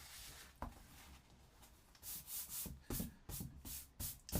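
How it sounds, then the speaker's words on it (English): An eraser rubs out a pencil sketch of a beach scene on paper in quick, close, soft scrubbing strokes, a few brief swipes followed by a series of faster rhythmic passes, quiet and with no talk. "Let's just rub all that off."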